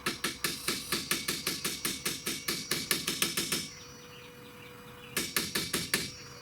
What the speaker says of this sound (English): Give it just a tiny little bit of tap, tap, tap.